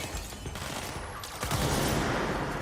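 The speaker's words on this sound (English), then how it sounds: "There's a rapid-fire mode, like machine gun mode." The service weapon in the Control video game fires with sharp, dense shots over a loud, busy game soundscape, with a denser burst near the end and no speech.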